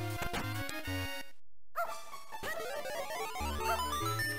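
A dog barks repeatedly in The Legend of Zelda: The Minish Cap, its bright, chirpy game-sound yaps broken by a short silent gap and set against bouncy background music.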